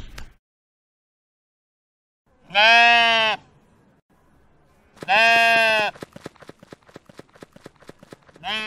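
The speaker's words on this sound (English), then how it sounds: "Sheep." Two loud, near sheep bleats separated by a pause, followed by a run of rhythmic clip-clop hoof clatter.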